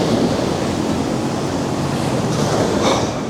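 Pacific Ocean surf on the coast makes a steady, loud broadband roar that swells slightly near the end, mixed with wind, with no voices.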